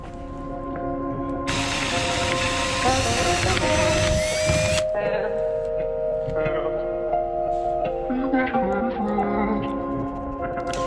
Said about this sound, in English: I'm gonna drill a hole for the Sharpie in the boards